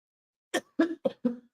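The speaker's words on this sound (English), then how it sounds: "I'll kick it over to you while I cough for a bit" A short series of four coughs in quick succession, close and moderately loud, with silence before them.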